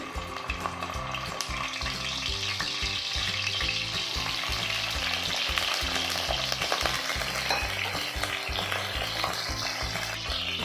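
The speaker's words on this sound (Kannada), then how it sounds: "ಇಲ್ಲಿ ನಾನು ಬದನೆಕಾಯಿನ ಹೀಗೆ ಕಟ್ಸ್ ಹಾಕ್ಕೊಂಡಿದ್ದೀನಿ, ಅದನ್ನು ಇದ್ರಲ್ಲಿ ಹಾಕ್ಕೊಳ್ಳೋಣ." Slit brinjals frying in hot oil in a kadai, a continuous dense sizzle with crackling and occasional stirring, steady and close throughout.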